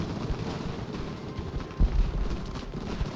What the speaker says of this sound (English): Canister is firing